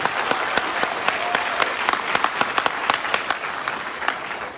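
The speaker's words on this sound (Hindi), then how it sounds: "आप लोग अपने लिए जोरदार तालियां बजाओ, जोरदार तालियां बजाओ।" Sustained loud audience applause fills a packed event hall in Ranchi, dense clapping with sharp individual claps standing out, steady throughout with no speech on top.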